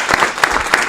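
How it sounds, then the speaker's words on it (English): Audience applause fills a city council meeting in Aurora, a steady wash of many hands clapping at close range with no talk over it. "Let's give her a round of applause for being here in Aurora."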